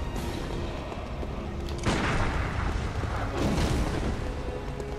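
A boss's sword firing fire blasts in the video game Bloodborne: two heavy booming bursts land a second or so apart, each a loud whooshing explosion swelling over a steady game background.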